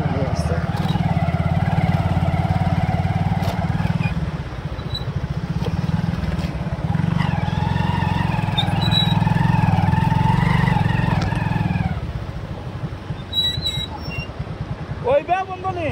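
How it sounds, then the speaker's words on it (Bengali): Motorcycles carrying tourists along a tea-garden road in Jaflong, Sylhet, produce a loud, close engine drone that holds steady for several seconds, then eases and fades near the end. "মোটরসাইকেল যারা এই যে এখন মোটরসাইকেলে চড়ছে পর্যটকরা,"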